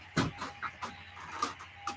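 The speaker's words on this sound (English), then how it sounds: "Coffee chat with the chickens." Chickens cluck close by in a quick run of short, clipped calls over a faint steady background hum.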